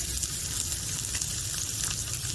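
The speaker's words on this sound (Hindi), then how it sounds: "पैन में 1 टेबलस्पून ऑलिव ऑयल डाल दीजिए और इसके बाद इसमें ये बीन्स डाल दीजिए" Beans fry in olive oil in a pan, giving a steady, dense sizzle that holds evenly close-up for the whole stretch with no talking.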